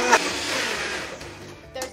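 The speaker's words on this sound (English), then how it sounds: "So we're going to put it on the blender." A blender whirs through an acai bowl mix in a food truck, a steady mid-loud grinding hum with a brief knock near the start and again near the end.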